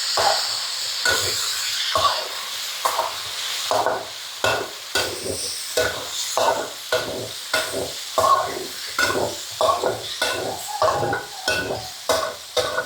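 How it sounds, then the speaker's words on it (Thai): Sun-dried pork fries in hot oil for a stir-fry with spring onions, crackling and hissing steadily while a spatula scrapes and tosses it in repeated strokes, close and fairly loud, with no talking. "น้ำมันร้อนแล้วเราก็ใส่หมูลงไปค่ะ"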